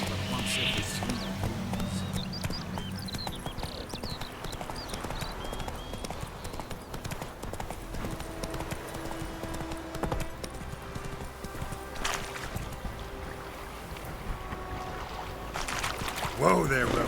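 The horse Roach in The Witcher 3 clip-clopping at a steady walking rhythm under ongoing dialogue, with a brief snort or whinny and some ambient water or ground noise in the background.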